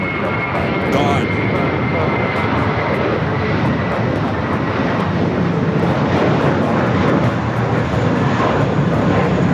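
Airliner departing from Los Angeles LAX bound for JFK, a loud, steady engine roar with broadband rumble filling the whole stretch, close and continuous under no talk.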